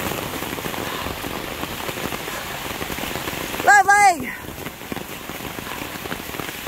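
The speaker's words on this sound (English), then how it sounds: "it's hailing on me now. Oh, you can see it falling." Hail patters steadily on the ground during a thunderstorm on a Southern Vermont stretch of the Appalachian Trail, a dense even hiss throughout, briefly interrupted by a delighted exclamation from a hiker.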